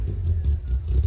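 An old 1976 MGB bought at auction runs with a low, uneven rumble and a faint metallic rattle, close by and fairly loud, with no voices.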